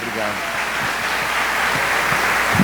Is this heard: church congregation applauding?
yes